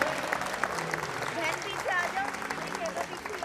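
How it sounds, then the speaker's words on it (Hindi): Parents in a school event audience applaud, a continuous spread of clapping with a crowd murmur and some voices mixed in beneath it. "तो आप लोग अपने बच्चों के लिए और कम से कम अपने लिए तालियां बजा लीजिए जोर से"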